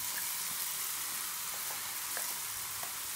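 Cauliflower fries in a spiced pan for bhurji, a soft, steady hiss with faint stirring taps now and then.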